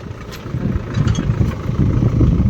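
A tractor engine runs steadily on a farm during rainy-season cotton work, a loud, close, low rumbling idle that builds slightly in loudness across the few seconds, with no talking.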